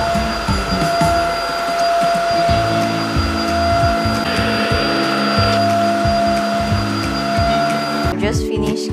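A budget cordless vacuum cleaner runs continuously with a loud, steady motor whine and shifting low hum as it moves over floors and corners, ending with a brief burst of rattling noise.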